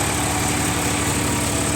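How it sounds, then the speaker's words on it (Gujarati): An Indo Farm 3048 DI tractor engine runs steadily nearby with a loud, even diesel drone and constant vibration. "હવે આપણે આપણા ટ્રેક્ટરનું પરફોર્મન્સ બતાવીએ ઇન્ડો ફાર્મ ત્રીસ અડતાલીસ ડીઆઈ ટ્રેક્ટર છે"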